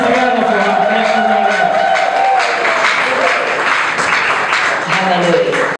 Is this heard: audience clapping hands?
yes